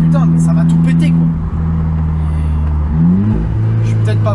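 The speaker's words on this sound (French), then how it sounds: "les déflagrations, mais c'est impressionnant comme ça tonne" An Alfa Romeo 4C tuned to 320 hp revs hard, its engine droning loud and close while sharp exhaust crackles and pops snap briefly over the note.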